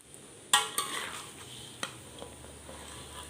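Fish frying in a pan until crispy, a soft sizzle under sharp clinks of a utensil against the pan and a few scattered stirring taps.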